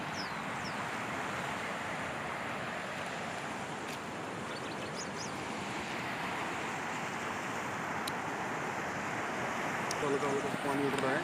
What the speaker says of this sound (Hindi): Raining time, so too much water in the river.